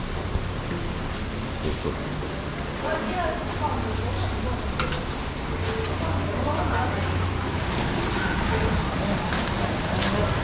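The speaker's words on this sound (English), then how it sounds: "It's raining, so a bit wet up here." Rain falls steadily outdoors on a wet street in Vietnam, a broad continuous hiss that runs the whole time, with a low engine-like rumble and people talking underneath.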